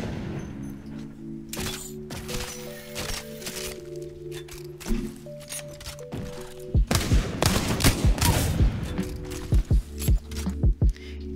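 Rapid gunfire from shooting targets in the Apex Legends firing range, with bursts of sharp cracks and short volleys growing louder and denser toward the end, alongside mechanical weapon clicks and thunks.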